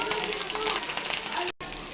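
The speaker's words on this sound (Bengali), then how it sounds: "তেল গরম হয়েছে, এখন চিংড়ি মাছ দিয়ে নিব।" Shrimp hits hot oil in a pan for a bitter gourd fry and sizzles with a steady, crackling hiss. The sound is close and continuous, broken by a brief cut near the end.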